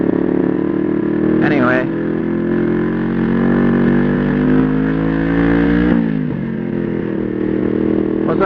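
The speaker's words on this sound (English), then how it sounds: "that was a bad downshift." A vehicle engine drones loudly and steadily after a downshift, its pitch shifting slightly, with a voice talking over it.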